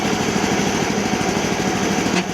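A small engine runs on a rare Japanese dump cart while its pulley keeps spinning with the clutch pressed, a loud, steady, buzzy idle drone close by, no talk.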